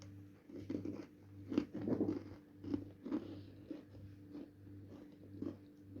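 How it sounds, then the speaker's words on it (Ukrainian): Crisp, irregular crunching as a crunchy blueberry cookie is bitten and chewed, with several sharp close bites followed by softer chewing in a quiet room. "Печиво хрумке."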